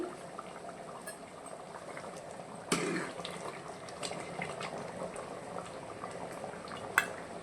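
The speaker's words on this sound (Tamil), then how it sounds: "குழம்பு நல்லா கொதி வருது." Mutton curry (kulambu) boiling in a pot, a soft continuous bubbling simmer heard up close and fairly quiet, with a couple of brief sharper pops or clinks.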